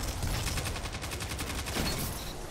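Rapid repeated gunfire in the shooter Destiny 2 with the Astral Horizon shotgun, a dense evenly spaced volley of shots running continuously at moderate loudness.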